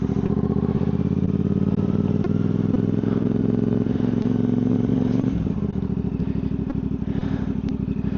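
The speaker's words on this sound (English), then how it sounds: "So we're going to set the bike up." A motorcycle idles steadily at close range while being positioned on staging lines for a rider training course, its engine note shifting and becoming choppier near the end, with light clatter and no talking.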